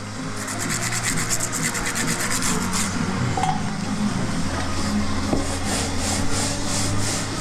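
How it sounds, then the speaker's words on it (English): Worn sandpaper rasps steadily against body filler on a car panel, a close, continuous scratchy rubbing with repeated back-and-forth strokes and no talking. "I keep it specifically just for doing the ripping out of the body filler"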